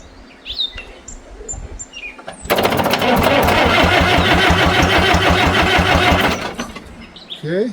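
A 65-year-old diesel tractor, overgrown with weeds, cranks over with a loud, rapid, rhythmic starter chug that runs for several seconds without catching, then cuts off; birds chirp before and after.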